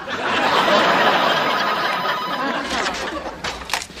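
A telephone rings in a sitcom scene, the ring coming through near the end of a burst of loud studio-audience laughter.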